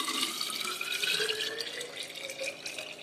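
Tap water runs steadily into a copper bottle during cleaning at home, a continuous bright splashing and gurgling pour with a faintly rising fill tone, close and alone for about three seconds.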